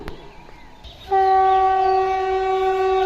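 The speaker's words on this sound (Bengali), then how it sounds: "কাটোয়া লাইন থেকে আজিমগঞ্জ স্টেশনে ট্রেন ঢুকছে" A train horn sounds loud and sustained from about one second on, steady and close, as an electric train enters Azimganj station from the Katwa line, with faint platform background before it.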